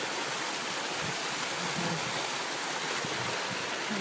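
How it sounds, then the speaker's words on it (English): Spring water streaming across a hillside road before dropping into a deep chasm: a steady, full rushing wash of flowing water, continuous and fairly loud, with no voices. "this lovely spring water"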